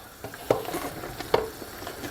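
Meat frying in a pan, a soft hiss with two sharper stirring scrapes, close and fairly quiet.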